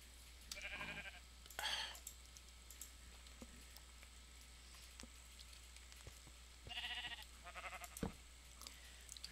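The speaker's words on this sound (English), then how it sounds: "Why are there so many sheep down here?" Sheep in the Minecraft video game bleat in a few short bursts, faint and somewhat distant, over a low steady hum with scattered clicks and no talking.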